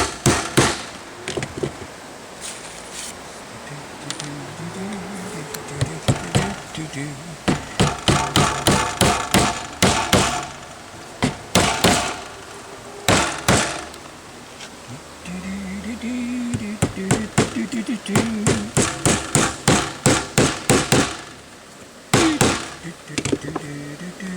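Bursts of sharp, rapid hammer strikes on nails ring out in quick rhythmic runs while building an air conditioner screen cover, separated by pauses with faint voices and handling noise in between.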